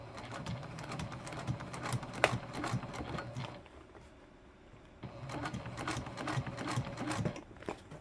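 Sewing machine stitching the gusset of a Heartbreaker bag, two close, steady runs of rapid mechanical chatter with a quiet pause between them.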